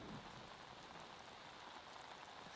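Hail falls in a faint, dense, steady patter of pellets striking the ground and nearby surfaces, with no voices.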